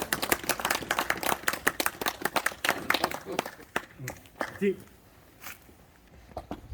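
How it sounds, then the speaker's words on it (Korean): Scattered clapping from a modest outdoor crowd at a March First Independence Movement Day ceremony at a school, a few seconds of uneven claps fading out into quieter sounds and brief speech. "박수!"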